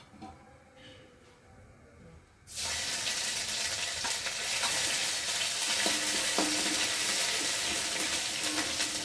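Garlic goes into hot oil where dried red chilli and cumin are already frying. A quiet, low background gives way to a sudden loud, dense sizzle that stays strong and steady.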